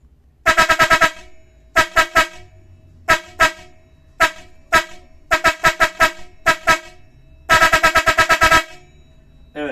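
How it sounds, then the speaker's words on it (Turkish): Loud, rapid bursts of air horn blasts in uneven groups, some short toots and some long rattling runs, separated by brief pauses. "Şimdi ufak bir sunulma kornamızın seslerine geçiyoruz arkadaşlar"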